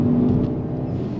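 A Mercedes GLB 35 AMG on the road in comfort mode gives off a steady, fairly loud low engine drone with some road rumble from inside the cabin, no voices.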